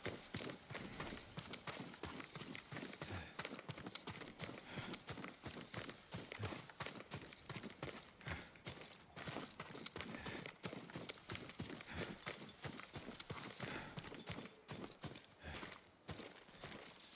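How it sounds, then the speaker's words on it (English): Horse hooves clip-clop in a steady rapid rhythm in the Ghost of Tsushima video game, a continuous close trotting beat with faint ambient noise beneath. "Yuriko's horse"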